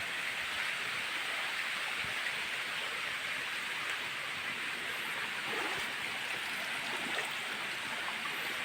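Steady, broadband rushing of spring water flowing over rocks, constant and fairly close, with no talking.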